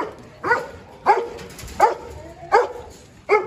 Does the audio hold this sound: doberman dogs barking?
yes